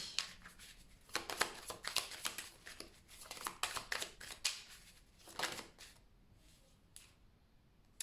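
Tarot cards being shuffled and drawn, a close, soft run of riffling flicks and slaps in irregular bursts, fairly quiet and fading toward the end.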